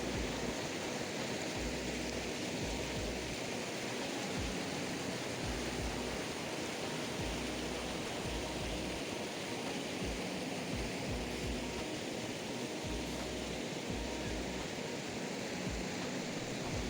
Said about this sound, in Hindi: ये रिवर स्ट्रीम थी